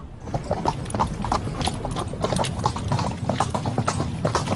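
Horse hooves clip-clop steadily in a brisk, continuous rhythm, close and clear throughout, on the desert plains of Xinjiang.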